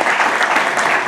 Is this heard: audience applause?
yes